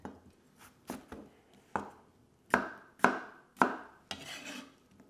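A knife cuts a potato into chunks on a cutting board, about eight distinct close thuds at an uneven, unhurried pace, each with a short crisp knock and a faint scrape between cuts.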